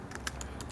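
Short burst of typing on a computer keyboard, a handful of quick, soft, close key taps in uneven rhythm.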